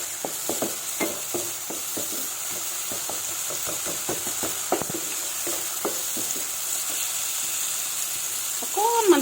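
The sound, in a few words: spices sizzling in pan after adding water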